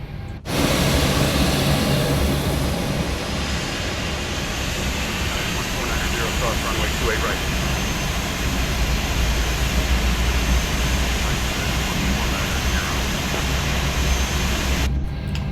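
An American Boeing 737-800 jet engine starts after pushback, heard from the cockpit as a loud, steady broadband roar that fills the whole stretch, with faint crew voices beneath it.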